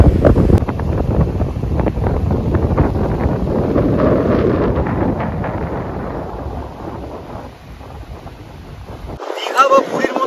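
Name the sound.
strong sea wind on Mousuni Island beach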